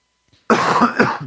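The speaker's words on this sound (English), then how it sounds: "I got a little bit of a cough still" A single harsh, close cough bursting out loud after a brief faint sound, with a second rougher push near the end.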